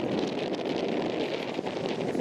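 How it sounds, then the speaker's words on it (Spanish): Wind blows hard outdoors in a gusty, windy town, roaring steadily into the microphone with constant buffeting and rustling and no voices. "Pero está re ventoso"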